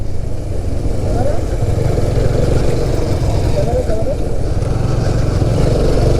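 A 150cc motorcycle on a hill road in Bandarban hums with a steady, loud mid-pitched engine note, heard close up under a person talking throughout.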